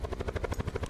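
Helicopter in the game Call of Duty Blackout, a brief rhythmic rotor thumping, steady and fairly close, with no voices over it.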